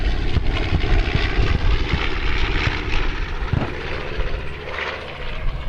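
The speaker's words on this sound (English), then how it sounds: "our next B-25, demonstrating the Doolittle pop-up raid maneuver" A B-25 bomber flies the Doolittle pop-up raid maneuver at the 2015 Joint Base Andrews airshow, its piston propeller engines giving a loud, continuous roar that rises and falls slightly.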